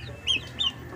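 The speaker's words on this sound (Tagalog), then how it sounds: "Susubukan natin ito sa ating mga manok." Chickens in a backyard flock being fed maggots let out two short, close clucks about a third of a second apart over a low steady hum.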